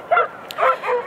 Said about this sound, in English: Shout out to all the dogs barking in the background.